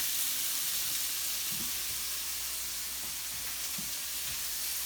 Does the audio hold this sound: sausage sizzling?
yes